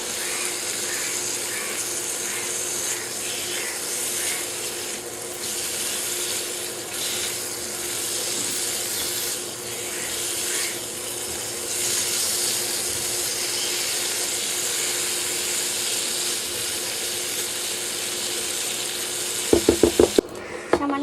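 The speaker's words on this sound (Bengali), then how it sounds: "এটা দিয়ে ভালো করে এবার মশলাটা কষিয়ে নেবো।" Fish frying in oil with turmeric, chilli and cumin masala, a steady close sizzle with faint stirring scrapes, ending in a few sharp clinks of a utensil against the pan.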